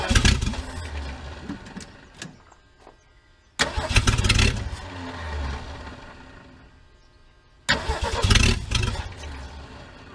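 The engine of a 1982 Ford Bullnose truck with head gasket and timing trouble cranks in three separate loud bursts. Each burst has a churning starter sound and fades out without the engine catching.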